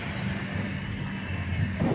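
The Netravathi Express arriving at Kannur station, heard as a steady loud rumble of rolling carriages with a high, drawn-out wheel squeal running over it.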